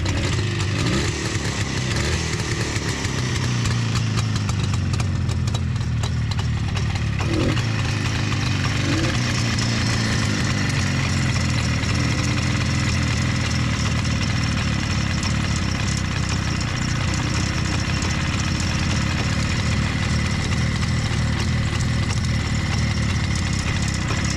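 A 1967 Jawa 350 motorcycle engine idling with the carburettor slightly out of adjustment, a loud continuous two-stroke burble that runs steadily for the whole stretch, with a brief stumble early on.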